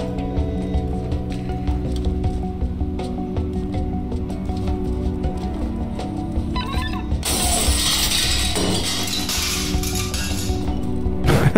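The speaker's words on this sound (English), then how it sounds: "they don't hear a window shattering at full volume." Window shattering in the video game Stray, a sudden bright burst of breaking glass midway through that spills into scattered tinkling fragments over a low ambient game hum.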